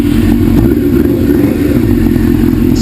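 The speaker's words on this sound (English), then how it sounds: "This is going to be winding the throttle." A 2000 Suzuki GSX-R 600 project motorcycle engine runs loud and close as the throttle is wound, holding a steady rough drone without clear rises or drops.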